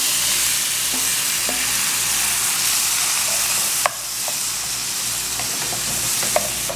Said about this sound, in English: my oil is hot, I'm adding my garlic. Before it starts to burn, I'm going to add my tomatoes